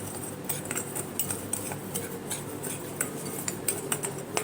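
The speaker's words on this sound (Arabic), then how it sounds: "هنقلب كل المكونات مع بعضها الجافة" Dry spices, ginger, onion, turmeric and cumin, are stirred together in a bowl with a utensil. The spoon scrapes and clinks steadily against the bowl, close and fairly quiet, with no talking.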